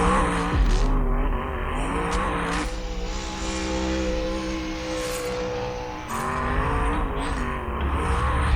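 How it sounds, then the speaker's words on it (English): A 1965 Ford Mustang engine roars loudly and steadily throughout, with a strong low rumble and shifting revs, no talking over it. "Yeah, 65 Ford Mustang that looks like this."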